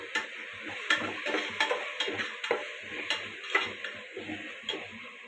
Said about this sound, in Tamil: நான் சிம்மில் தான் வச்சு வதக்கிட்டு இருக்கேன்.